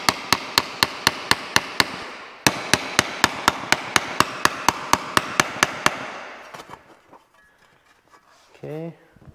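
Steady hammer blows shape a metal body panel for a 1939 Lincoln Zephyr against a sandbag, sharp evenly spaced strikes repeating for about six seconds before tapering off, with a voice briefly heard at the end.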